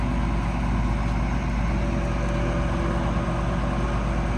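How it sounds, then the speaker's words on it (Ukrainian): Diesel engine of a Claas Dominator 58 special combine harvester running steadily at close range, a loud, even, continuous rumble with no breaks or changes in pace. "Двигун працює ідеально, запускається теж все супер."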